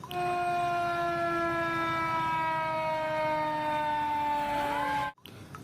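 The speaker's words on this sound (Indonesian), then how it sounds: "ternyata ini damkar, mobil pemadam kebakaran." A toy fire truck's electronic siren wails steadily up close, a loud bright tone with layered harmonics sliding slightly downward, cutting off abruptly near the end.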